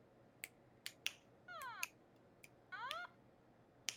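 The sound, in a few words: fingers snapping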